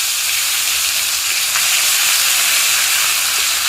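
Tomato hits hot oil in a pan while a vegetarian curry of elephant foot yam and soybean chunks is cooked, giving a loud, continuous, close sizzle and hiss with no talk.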